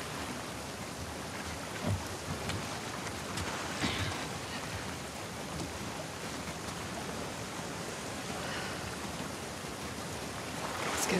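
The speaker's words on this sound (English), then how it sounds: "Let's get out of the rain." Steady rain pours throughout a stormy outdoor scene in the video game The Last of Us Part 2, a dense, even hiss with occasional heavier bursts and no talk.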